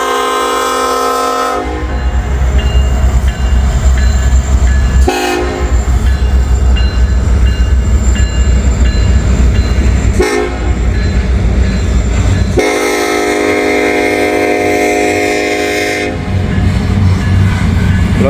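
An SD78 diesel locomotive leads a train past close by, loud and steady, with wheels clattering over track and several blasts of the horn sounding over the rumble.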